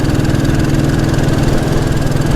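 A Royal Enfield Bullet 350 single-cylinder motorcycle engine runs steadily while riding, a loud continuous low thrum with dense, even pulsing throughout, close and alone with no talking.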